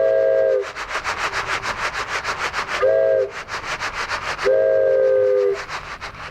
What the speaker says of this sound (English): So is the train sound.